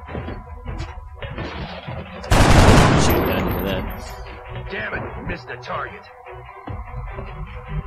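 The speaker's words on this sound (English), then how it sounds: "Taking fire over here." Gunfire in the X-COM video game: a loud burst of shots erupts partway through, then tails off over ongoing game sounds and talk.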